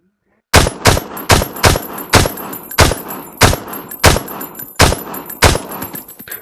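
Body shots fired in the sandbox video game Beyond Sandbox: about ten loud, sharp gunshots in an even, steady rhythm, each with a short decaying tail, close and alone with no talking.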